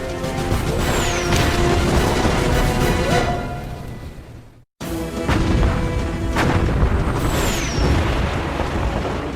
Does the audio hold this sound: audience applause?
no